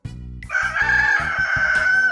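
A rooster crows one long, loud cock-a-doodle-doo, close by and sustained for nearly two seconds, heard on its own.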